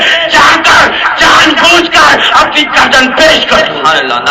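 A large crowd at a religious gathering roars back in loud, sustained shouts answering the Nara-e-Takbir slogan, voices massed and overlapping for the whole stretch.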